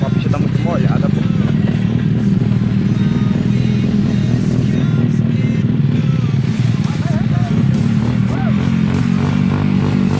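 A motorcycle engine runs steadily and loudly while riding on a wet, muddy road after rain, with a constant low rumble and faint clatter throughout and no pauses.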